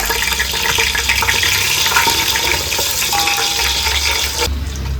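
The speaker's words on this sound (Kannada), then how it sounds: "ಇದನ್ನು ಸೇರಿಸ್ಕೊಂಡು 1 ನಿಮಿಷ ಫ್ರೈ ಮಾಡ್ಕೊಳ್ಳೋಣ" Whole spices such as pepper, cinnamon and mace frying in a pan for chicken tikka biryani, a dense close sizzle with stirring and scraping throughout, no talk.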